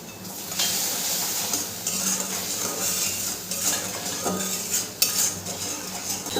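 Spice masala with salt and Kashmiri chilli powder stirred and fried in a pan for doi potol, a curd and pointed gourd curry, with a steady loud sizzle under repeated scraping and clinking of a spatula against the metal.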